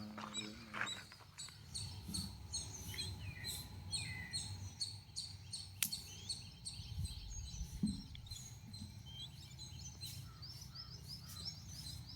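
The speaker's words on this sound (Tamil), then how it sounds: "பாட்டு கூட வருது மைனா." A myna bird sings in a village setting, giving repeated bright chirps and whistled notes in loose, irregular bursts. The calls sound moderately near over a quiet outdoor background, and no one speaks.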